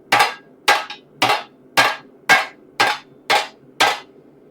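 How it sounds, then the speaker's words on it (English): A hammer strikes steel armor, a Mandalorian pauldron, to knock out small folds: eight sharp, ringing blows, evenly spaced and close, with nothing else heard. "By hammering on the highest point of the fold, it forces the steel to kind of, it forces it in on itself"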